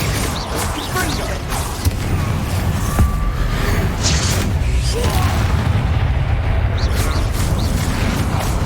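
Explosive Confringo and Bombarda spell blasts go off in the Hogwarts Legacy video game, heavy booming crashes and rumbling impacts piled densely over a loud, unbroken battle din.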